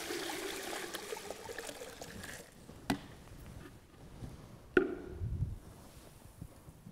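Liquid for a stripping run is poured into an iStill Mini still, a quiet trickling and splashing stream with a couple of sharp knocks, then a fuller gurgling pour near the end.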